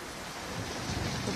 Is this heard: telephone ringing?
no